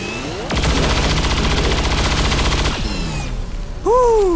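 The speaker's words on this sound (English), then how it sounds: "We'll just shoot the Andromedon shell" Rapid automatic gunfire in XCOM 2 aimed at an Andromedon's empty shell, a loud continuous burst lasting about two seconds, followed by a quieter whooshing tail and a brief electronic chirp.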